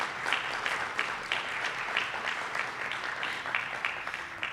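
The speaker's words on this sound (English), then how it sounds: "Let's have one more round of applause for all of our award winners." A ceremony audience gives a round of applause for athletics hall of fame and alumni award winners, continuous clapping at moderate distance with no voices over it.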